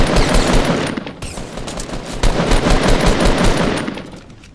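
Rapid gunfire from the video game Squad Busters: dense bursts of automatic shots crackling continuously, loud and close, with no talking over it.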